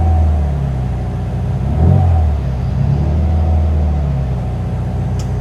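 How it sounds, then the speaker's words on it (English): A 1972 VW Beetle with a dual-carburetor engine revs up from idle, swelling to a loud peak around the middle before settling back into a steady, rumbling idle, close and alone with no voices. "I can rev up my engine."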